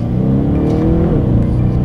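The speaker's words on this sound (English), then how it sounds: "Let's downshift. And we're in second gear. Let's test out the paddle shifters." A 2020 BMW 750i xDrive engine revs loudly and steadily as the paddle shifters drop it into second gear, its deep droning note rising and wavering close by with no talking.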